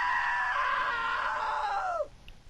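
A long, loud, high scream in the video game What Remains of Edith Finch is held for about two seconds, then drops sharply in pitch and cuts off into quiet.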